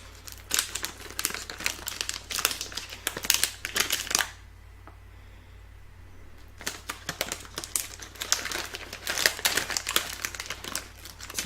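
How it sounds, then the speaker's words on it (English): A crinkly snack package made in Brazil is opened and handled up close, giving dense bursts of crisp plastic crinkling that pause for about two seconds midway before resuming. "It's a very crinkly package."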